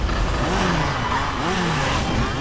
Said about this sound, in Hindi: ये आवाज किसकी? बाइक्स की है।